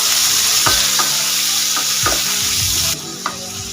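Tomatoes, green chilies and ginger with a little salt frying for a vegetarian paneer masala, loud close sizzling with several distinct spatula scrapes in a slow stirring rhythm, the hiss dropping off near the end.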